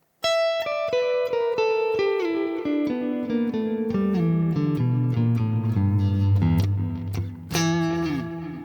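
An electric guitar plays a descending blues phrase of quick notes with a swung, uneven rhythm, ending on a bright high note that rings out.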